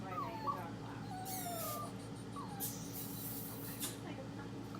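A dog whimpers in a high, puppy-like way during a veterinary nursing visit where a cast is being applied, with soft rising whines and yips repeating over steady background hum.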